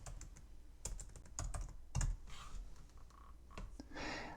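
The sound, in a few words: typing the word flower on a computer keyboard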